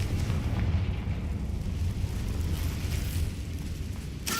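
A Confringo blasting curse goes off in the Hogwarts Legacy video game: a deep, rumbling explosion that rolls on and slowly fades, with a sharp crack near the end.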